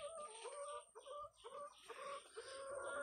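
Tiger breed laying hens cluck in a continuous, overlapping chorus at a poultry farm, close and fairly soft.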